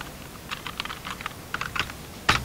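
Quick bursts of keystrokes on a computer keyboard, a short irregular run of taps ending with one heavier press, close and fairly quiet.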